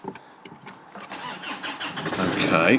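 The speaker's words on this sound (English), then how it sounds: "so let's start the engine" A Land Rover Freelander engine cranks and catches after a camshaft position sensor replacement, starting as low turning bursts and building into a steady, louder running rumble close by.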